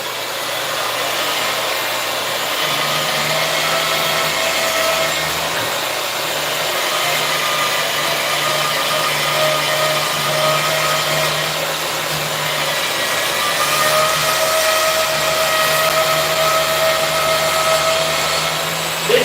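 A small bandsaw running in a knife-making workshop, a loud steady motor whine and drone held unbroken for the whole stretch with no talk over it.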